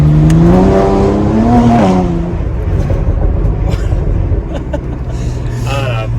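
A BMW Z4 with a 306 hp engine roars loud and close, its pitch climbing and then settling into a strong steady drone, while someone speaks over it.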